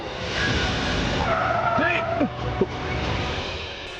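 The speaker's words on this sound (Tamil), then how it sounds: "கொஞ்ச தூரம் தள்ளி நானே வண்டியை நிறுத்துறேன்" A car brakes hard to a stop in a chase scene from a Tamil TV serial, its tires squealing and skidding loudly under tense dialogue, with a bump as it halts.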